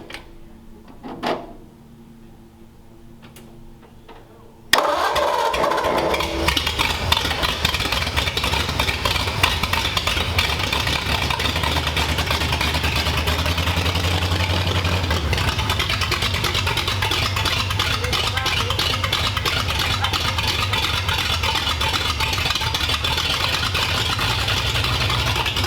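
A 1932 Ford Tudor engine, running for the first time in 45 years, catches after a few quiet seconds with faint clicks, then settles into a loud, steady, close idle that carries on without pause.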